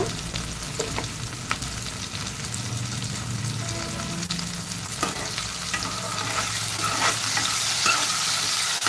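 Mutton pieces fry with salt and turmeric in a pan while being stirred, producing a steady loud sizzle broken by scraping and clattering stirring strokes, close up with no speech.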